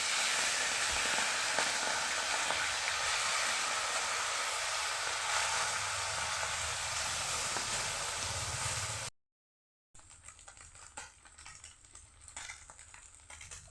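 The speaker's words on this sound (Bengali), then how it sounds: "তেল আমার গরম হয়ে গেছে, এখন দিয়ে দেব।" Small chuna fish seasoned with salt and turmeric frying in hot oil in a wok, giving a loud, steady hiss that runs for about nine seconds, then breaks off into a quieter, thinner sizzle.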